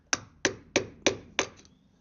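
Hammer striking a screwdriver to bend over metal during a Land Rover Defender 90 wheel bearing replacement: five sharp, evenly spaced metallic taps, close and fairly quiet, with no talk.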